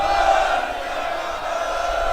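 A large crowd at a farmers' protest sit-in in Delhi roars back a Sikh jaikara in unison, a sustained loud collective shout that holds steady for its full length.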